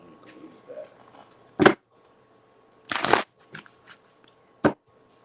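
A deck of tarot cards is shuffled in a few sharp riffling bursts with pauses between them, close and crisp in a quiet room.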